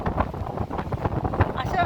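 Strong gusty wind buffets the microphone along a lakeside baywalk, a steady low roar with uneven surges throughout, and a voice speaks briefly over it.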